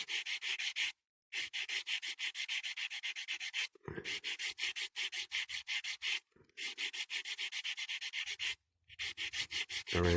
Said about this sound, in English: I'll go into these sanding sticks